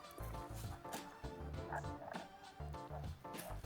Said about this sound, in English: Sounds like a frog.